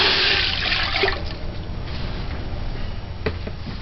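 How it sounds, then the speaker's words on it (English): Water pouring steadily into a large stewing pot for chicken foot soup, a loud, close rushing splash that eases after the first second into a softer, continuous fill. "Add the water."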